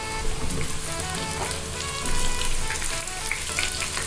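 Sliced onions hit a pan of crispy fried pork and crackle loudly, a dense, steady sizzle with scattered pops that swells slightly midway.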